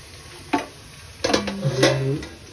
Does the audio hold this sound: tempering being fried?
yes